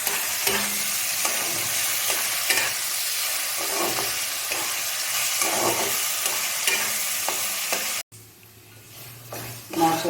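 Ginger garlic paste stirred and frying in a pan for an egg tadka gives a steady loud sizzle with scraping strokes, cutting off abruptly near the end and then returning more quietly.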